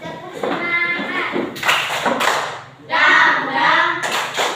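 Schoolchildren in an Indonesian classroom do a rhythmic spirit-clap ice-breaker, bursts of close group clapping and hand slaps alternating with children's chanting voices.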